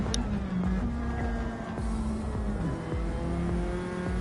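Onboard engine of a GT race car in a sim racing game: a loud, continuous high-revving drone heard from inside the cockpit, with rising and falling pitch through gear changes and a faint tire scrub underneath.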